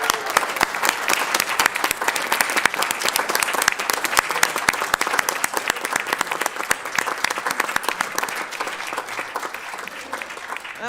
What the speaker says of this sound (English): Give ourselves a big round of applause.